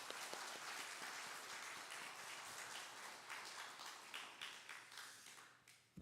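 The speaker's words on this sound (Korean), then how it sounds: "다음 목사님께 감사의 박수, 하나님께 영광의 박수 한번 올리도록 하겠습니다" Congregation applause during a Friday revival service at Oakland United Methodist Church, a dense, steady wash of many hands clapping that holds for several seconds, then thins out and fades toward the end.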